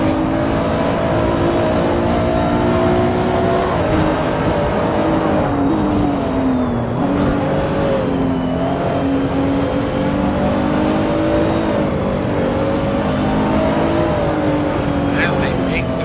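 Race cars lapping the Nordschleife in a racing video game: a steady, loud engine drone with shifting pitch as the cars accelerate and pass, continuing throughout.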